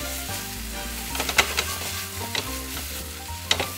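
Liver, bean sprouts and garlic chives stir-fried in a wok for liver and chive stir-fry, a steady sizzle broken by several sharp scrapes and clanks of the spatula against the metal.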